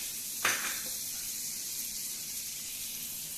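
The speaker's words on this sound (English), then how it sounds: "So we have a pan which is very hot over here. We add a generous amount of butter." A generous pat of butter hits a very hot pan with a sharp hiss, then settles into a quiet, steady sizzle that continues at a low level.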